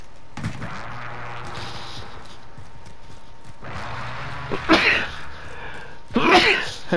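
Sneezes during a Call of Duty Modern Warfare session, two sharp bursts in the latter half over a low background hum and faint game sounds.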